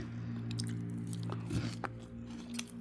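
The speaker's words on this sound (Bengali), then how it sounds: "এই যে পেঁয়াজ দিয়ে খাচ্ছি" Biryani eaten with raw onion, bitten and chewed close to the mic, with a few soft crunchy bites and wet mouth sounds over a steady low background hum.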